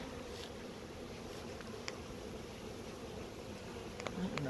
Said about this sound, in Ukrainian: Тільки бджоли.